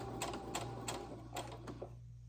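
A home sewing machine back-stitching along the edge of leader cloth for a quilt frame, a low steady motor hum with several quick rhythmic needle bursts, close and moderately loud, stopping near the end.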